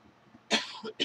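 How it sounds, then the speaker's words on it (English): A few short, harsh coughs close by, ending in a throat-clearing burst after a quiet moment. "we're all coughing and snorking around"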